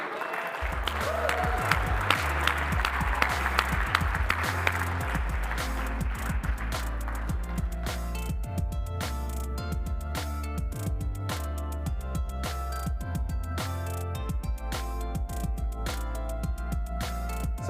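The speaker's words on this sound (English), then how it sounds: "Give them a round of applause" Audience at an award ceremony claps steadily for a winner, a dense sustained applause that later thins into distinct individual claps, fairly distant and continuing throughout.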